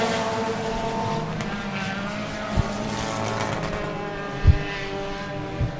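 A 4-cylinder dirt track race car roars along the front straightaway at Victory Lane Speedway in Manitoba, its engine droning steadily at a distance with a few sharper bursts and knocks; no voices over it.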